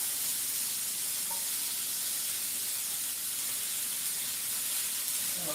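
Butter sizzling in a hot pan while cooking teriyaki salmon, a steady, bright hiss that stays even throughout with no talking.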